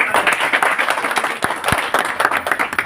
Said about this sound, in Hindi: मैं चाहता हूं एक बार उसके लिए भी जोरदार तालियां